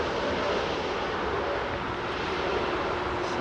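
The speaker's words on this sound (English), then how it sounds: "This is a 767 coming." A Boeing 767 on arrival to runway 27R at London Heathrow, a loud, continuous broadband jet roar that stays steady and close for the whole stretch, with no talk.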